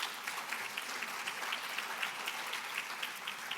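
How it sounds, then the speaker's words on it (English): Conference audience applause in a large hall, a sustained round of many hands clapping at even strength, moderately distant. "I just want a huge round of applause again."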